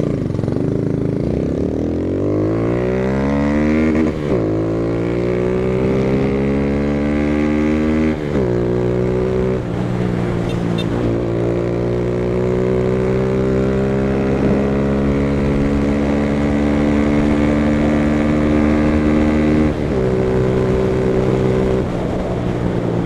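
A motorcycle engine with an open exhaust drones steadily and loudly throughout, its pitch rising and falling as the rider shifts through gears.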